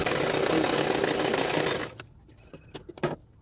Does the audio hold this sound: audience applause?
no